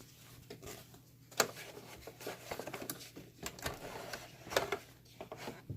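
A sewing machine stitching across fabric for cosplay armbands, with a presser foot in use, makes a quiet, irregular run of mechanical clatter and tapping, fairly close, with pauses and a few sharper knocks.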